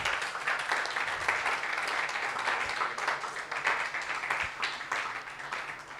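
An audience at a stakeholder forum claps, a moderate spread of hand claps that swells and fades slightly over several seconds, with some voices underneath.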